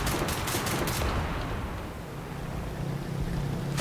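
Rapid MKb assault rifle fire from the shooter game Enlisted, a dense burst of shots at the start that fades into a low rumble of wind and engine noise, with no talk.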